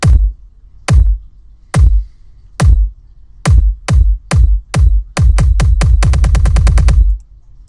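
Dubstep drop built in a music production program: heavy, booming bass hits spaced evenly at first, then crowding closer together into a rapid stuttering roll before cutting off, loud and alone.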